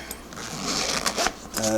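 The big zipper on a padded pocket of a carrying case for a restored Singer Model 337 sewing machine is opened in a few quick, raspy strokes, and a voice starts at the end.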